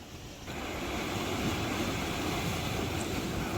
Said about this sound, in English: I don't know if you can you'll be able to hear me because of the wind and the swell